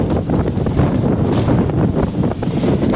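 Steady wind gusting and roaring across an open space, a constant rough whoosh with slight surges, no voices.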